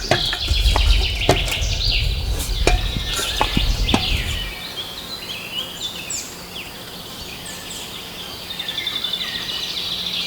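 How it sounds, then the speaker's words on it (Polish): Birds give agitated high chirps and calls near an empty robin nest in a tree hollow, following a few seconds of close knocking and handling thumps, then continuing alone against faint outdoor ambience. "w okolicy też słychać, jak ptaki się niepokoją."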